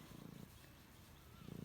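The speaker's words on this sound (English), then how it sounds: "and she's purring. Her little motor's working." A hen-keeping cat in rural Jackson County, Kentucky purrs softly while being petted, with a low, steady rumbling throb that swells at the start and again at the end.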